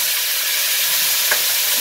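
Onions sizzle steadily in a hot pan for beef tehari, a continuous even frying hiss with a faint stir near the end and no voices.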